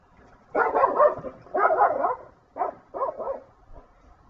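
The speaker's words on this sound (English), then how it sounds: "As you can tell, the dogs just went wild." Several dogs bark wildly in bursts at a neighbor stepping into his backyard, four loud clustered volleys of barking with short pauses between them, no talking.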